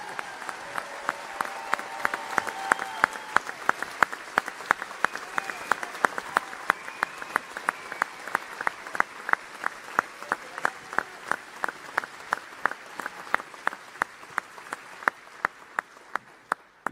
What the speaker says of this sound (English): let us once again show our commitment by giving Sadhguru a loud round of applause